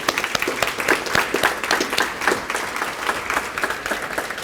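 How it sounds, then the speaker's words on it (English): An audience at a college building topping-out ceremony breaks into steady, moderately loud applause, many hands clapping continuously throughout. "Let's give her a round of applause."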